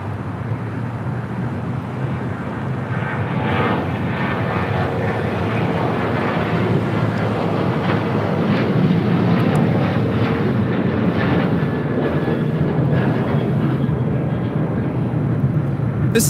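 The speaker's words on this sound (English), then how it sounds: "This is American Airlines 2343 taking off to Raleigh-Durham on a 737-800." An American Airlines Boeing 737-800 takes off at LAX, its jet engines a loud, steady broadband roar that holds strong and close throughout.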